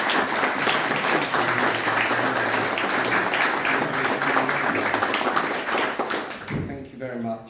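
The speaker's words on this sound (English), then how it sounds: "Could I please have a round of applause for the outgoing Mayor?" Sustained applause from a crowd at a mayor's reception honouring the outgoing mayor, dense clapping filling the room for several seconds before fading out as a voice begins talking.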